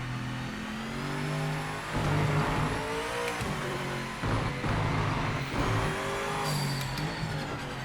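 A BMW M8 GTE race car engine in the Project Motor Racing game circuits the Nurburgring, revving hard through gear changes with rising and falling pitch sweeps, close and loud throughout.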